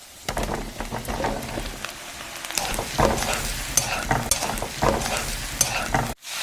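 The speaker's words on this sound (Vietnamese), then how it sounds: "Sau đó mình cho nấm vào xào lên." Mushrooms sizzle and crackle loudly in a hot pan, with repeated scraping stirs over a continuous frying hiss and no talking.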